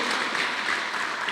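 A church congregation applauds, a dense, steady wash of clapping hands sustained evenly for a moment without any speech.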